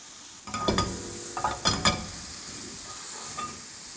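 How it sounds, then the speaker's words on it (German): Shallots or onions and mushrooms frying in butter in a pan for a veal ragout, with a steady close sizzle and a few scraping stirs of the spatula, no talk. "Die Schalotten oder Zwiebeln mit rein. Und kann ruhig noch ein Stückchen Butter mit dazu, die Pilze saugen sehr viel Fett auf."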